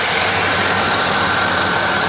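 A Holden VT Commodore engine held at high revs, a steady loud mechanical roar with no talking over it.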